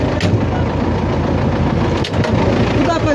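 A tractor engine runs steadily outdoors, a continuous low rumble that stays loud and even for a few seconds with no break.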